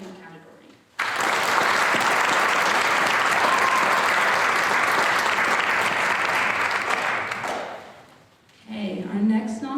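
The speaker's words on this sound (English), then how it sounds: "Please join me in applauding Alexis Anderson for being nominated in the Personal Achievement category." An audience at a county youth awards ceremony claps steadily for a nominee, a thick, even burst of applause lasting several seconds before fading, with a voice speaking briefly at the end.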